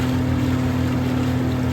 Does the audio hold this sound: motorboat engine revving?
yes